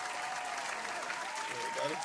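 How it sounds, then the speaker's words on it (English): Studio audience on a sports talk show breaking into steady applause, a dense, even wash of hand claps sustained throughout the short moment. "Give my man a hand clap."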